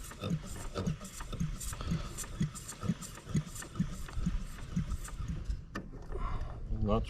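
A nitro RC plane engine with a radial-style layout is turned over by hand, giving a regular series of rhythmic chugging compression thumps, close by, with a person talking over them.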